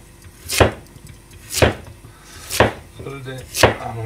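A knife chops carrots on a cutting board with four crisp, evenly spaced thuds about a second apart, close and clear, a little kitchen clatter in between.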